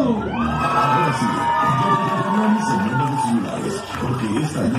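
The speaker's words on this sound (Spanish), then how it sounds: "¡Y los gritos y los aplausos!" At a children's birthday party with a clown show, a crowd of kids shouts and cheers loudly and continuously, close by, with excited whoops rising above the din.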